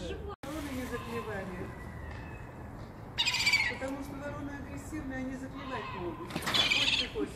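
A week-old seagull chick and its mother call in a city courtyard, with repeated thin piping notes and louder, harsher cries in two bursts, while people talk nearby.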